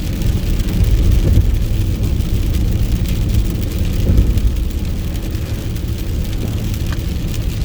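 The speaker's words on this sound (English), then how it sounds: "The car is riding on water right now." Steady roar of a car's tires riding on standing water during heavy rain, a continuous loud wash of spray and road noise with slight surges, no talking.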